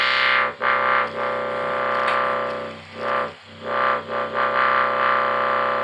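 A loud, buzzy analog synthesizer oscillator drone holds steadily, its brightness sweeping and dipping in slow waves, with no voices.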